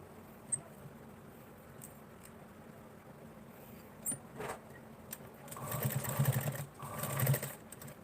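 A sewing machine sets normal stitches along the fabric edge at a suit slit, a couple of short, fairly soft whirring runs near the end after quiet handling taps.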